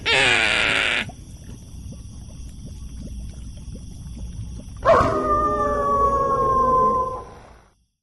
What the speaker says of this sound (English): You hear that intro every time. Howl and the laugh.